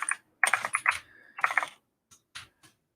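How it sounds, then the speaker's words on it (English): Bursts of fast typing on a computer keyboard, clustered keystrokes in several short runs separated by pauses, close and clear with no talking. "Monday typing is always rough."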